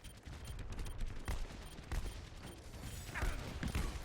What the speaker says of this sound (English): So that's Soldier 76 shooting me